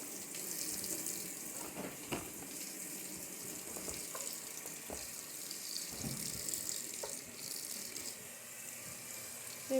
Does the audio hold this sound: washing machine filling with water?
yes